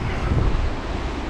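Strong wind on a beach buffets the microphone in a loud, continuous rush with low rumbling gusts, and surf may be faintly mixed in. No one speaks.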